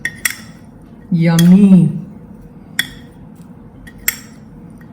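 Masala being stirred in a bowl, with several sharp metallic clinks of a spoon against the dish and a brief voiced exclamation in the middle, close and clear.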